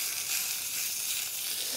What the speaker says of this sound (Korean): 이 돼지고기든 소고기든 그냥 저는 기름을 듬뿍 뿌려가지고 그냥 튀기듯이 그냥 굽습니다.